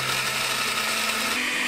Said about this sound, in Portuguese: Agora, você vai bater no liquidificador, mas pode ser um processador, pode ser um moedor de café ou de especiarias também.